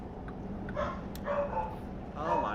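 Dogs barking and yipping a few times, faint and somewhat distant, under a steady background drone with a voice mixed in.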